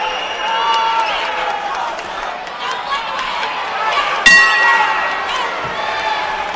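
A boxing bell rings once to end the round, a sharp metallic ding cutting through steady arena crowd noise while a commentator talks over it.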